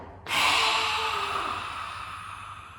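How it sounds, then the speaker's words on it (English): One long, steady exhale through the nose during a yoga breathing exercise for anxiety, starting sharply and slowly fading over a couple of seconds, close and alone. "you just inhale normally through the nose, and exhale"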